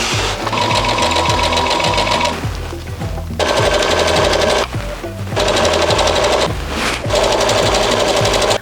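A sewing machine runs gathering stitches along fabric for a dress, loud rapid mechanical chatter in three long bursts separated by brief pauses, close up.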